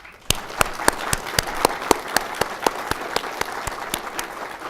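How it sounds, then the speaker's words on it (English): A graduation ceremony audience claps for the graduates. The sharp, evenly spaced hand claps ring in a hall over a soft crowd wash. "Please give our graduates a round of applause again."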